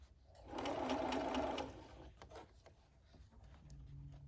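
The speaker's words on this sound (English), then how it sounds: "Now we're going to try to stitch right to the middle, but remove your pin." A sewing machine runs in one short, close burst while stitching a fitted face mask, then quiet rustling of fabric follows.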